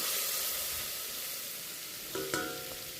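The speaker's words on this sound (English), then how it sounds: "in another pot we're going to need some tomato paste with very little amount of water and mix it up a bit." Tomato paste with a little water, paprika and cardamom cooks in a pot for Tunisian fish couscous, giving a steady soft sizzle and simmer with a couple of brief metallic clinks near the end and no voices.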